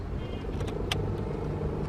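Steady low rumble of a taxi moving along, engine and road noise droning evenly, with a brief faint click partway through.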